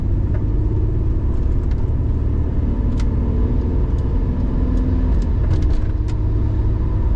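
A 33-year-old Holden Ute rounds a roundabout, its engine a steady mid-pitched rumble under continuous road and tyre noise, close and fairly loud throughout with a few faint clicks and rattles.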